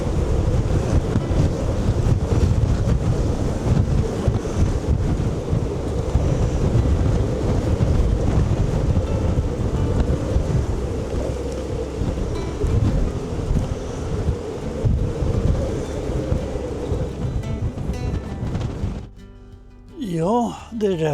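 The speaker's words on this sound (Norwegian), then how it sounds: "Det blåser litt grann i dag." Strong wind by the sea at Bugøynes, Norway, buffets the microphone in a constant rumbling roar, with a brief lull near the end where a faint tonal sound emerges.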